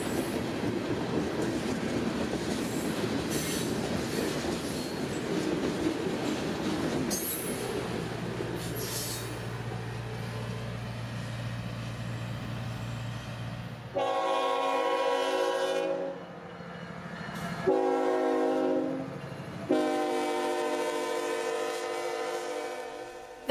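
A CSX freight train of boxcars and hoppers rolls past, its low rumble and wheel noise steady at first, then long, loud horn blasts sounding close and repeating toward the end.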